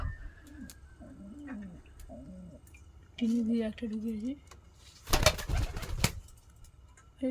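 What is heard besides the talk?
pet pigeons cooing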